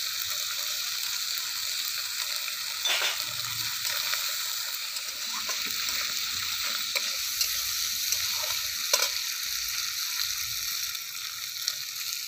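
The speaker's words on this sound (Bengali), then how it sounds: "দিয়ে দিচ্ছি আদা বাটা।" Ginger paste and tomato frying in a pan for a vegetarian cabbage kalia, a steady broad hiss of sizzling throughout with a few faint spoon scrapes, even and moderately quiet, with no voices.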